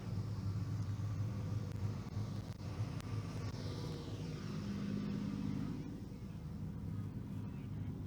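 A race car, the 68 car, rolls past at a clay speedway during a 100-lap event, a low engine rumble that swells and fades as it passes, with faint background noise from the track.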